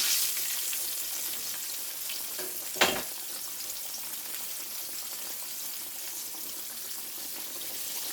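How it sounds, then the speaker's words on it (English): Large pork chops fry two at a time in a pan of grease, giving a steady, moderate sizzle with one brief clatter partway through. "we fry them about 10 minutes on each side"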